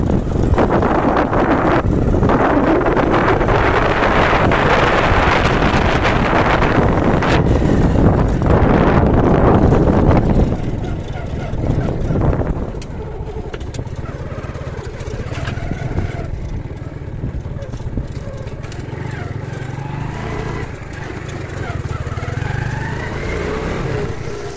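Steady wind buffets the microphone while riding a motorbike on a cold early morning in a village, loud and roaring for about ten seconds, then easing to a lower, continuous rush with a faint engine hum.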